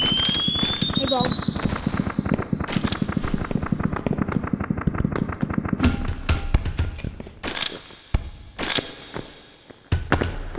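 An explosive blast from a bomb in the video game Animal Company, set among rapid crackling and popping game effects, loud and close, with people talking over it.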